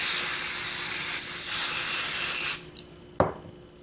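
A spray paint can hisses in one steady, loud burst lasting a few seconds while a craft is painted, then cuts off; a short sharp click or tap follows.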